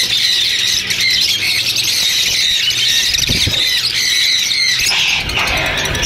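Fischer's lovebirds at a Sunday bird market in Bahawalpur squawk and squeal continuously, with shrill, overlapping calls throughout and a few low thumps and knocks beneath them.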